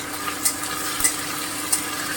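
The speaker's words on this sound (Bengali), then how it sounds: "যে কোনো মাছ ভাজার সময় কড়াইটাকে আগে খুব ভালো করে গরম করে নেবেন, তারপরে মাছটা দেবেন" Fish sizzling steadily in a hot wok, a dense continuous frying hiss with a few brief sharper spits and pops standing out, fairly close and alone with no talk.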